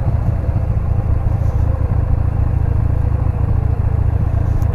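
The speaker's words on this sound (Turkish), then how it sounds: "aa motosiklet ekibi geliyor arkadan" Motorcycles come up from behind on a road near Danamandıra Nature Park in Çorlu. A loud, steady engine drone and rumble runs throughout, blended with road and wind noise.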